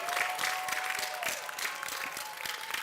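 A large graduation crowd in an auditorium claps and cheers, dense continuous applause with a faint tone humming beneath, holding steady across the whole stretch.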